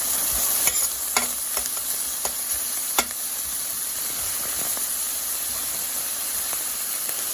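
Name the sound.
sautéing garlic, chopped onion and oregano in a pan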